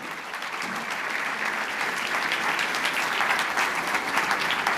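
Audience applause at an economics panel of the IMAGINA congress in Buenos Aires, welcoming a guest from the Buenos Aires Stock Exchange; steady, dense clapping from a sizable crowd holds evenly throughout without talk.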